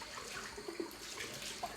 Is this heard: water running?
yes